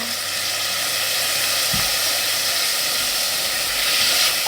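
Sator beans, peas and pork stir-frying in a hot pan give a loud, steady sizzle and hiss that runs throughout, with a brief clatter of a stirring utensil partway through.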